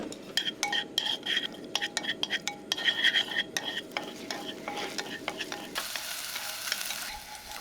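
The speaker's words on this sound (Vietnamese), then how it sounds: "Dầu nóng thì mình cho hành tím vào phi thơm lên." Shallots frying in hot oil in a clay pot, with a loud, crackling sizzle broken up by quick, rhythmic scrapes and clinks of a utensil stirring. The sizzle turns into a smoother, steadier hiss near the end.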